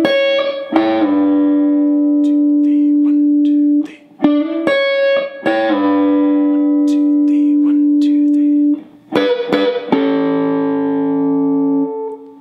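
An electric guitar with effects and light distortion plays a bluesy lick, with picked notes, bends and long sustained tones in two repeating phrases, close and clear.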